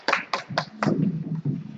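A handful of separate claps ring out at a seminar, four quick sharp hits close together, before a voice takes over and talking continues under a little more scattered patting.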